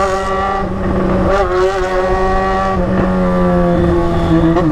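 A Yamaha XJ6 motorcycle engine with a makeshift pipe exhaust revs loud and close, a steady raspy roar that climbs and dips in pitch several times without pause, with no voices.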